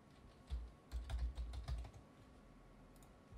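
Password being typed on a computer keyboard while configuring a Ubiquiti EdgeRouter: a few close, quick clusters of key clicks in short bursts, then quiet.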